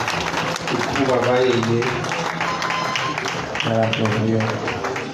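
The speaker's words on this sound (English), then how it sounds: "Please put your hands together for the Imperial Majesty" Applause for the Alaafin of Oyo at a ceremony in his honour, a broad wash of clapping from a large gathering that runs steadily through the moment while voices and singing carry over it.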